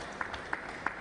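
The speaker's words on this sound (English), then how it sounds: "Marlin claps regardless" Spectators applauding at a table tennis match, the WTT Star Contender in Goa: three sharp, evenly spaced claps standing out over a steady low crowd murmur.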